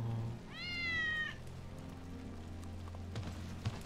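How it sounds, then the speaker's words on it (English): A cat in the video game Final Fantasy VII Remake gives a single drawn-out, clear meow over a low steady hum, followed by faint scattered clicks and footsteps. "Hear that? That's Wedge's cat."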